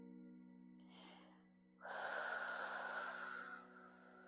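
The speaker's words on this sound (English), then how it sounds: "we will breathe together now" A single slow breath, a soft short inhale followed by a longer, deeper audible breath drawn close to the microphone during a guided healing meditation, set over a steady low hum.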